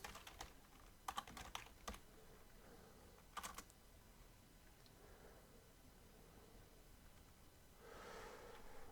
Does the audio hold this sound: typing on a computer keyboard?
yes